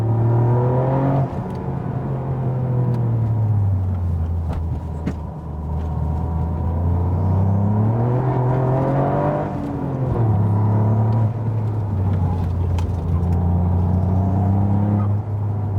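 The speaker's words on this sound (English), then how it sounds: "So, again, some turbo flutter, second gear." A Toyota GR Yaris engine fitted with a Piras Motorsport airbox intake revs in second gear, its engine note rising and falling with a loud intake growl and brief turbo flutter chatter between throttle lifts.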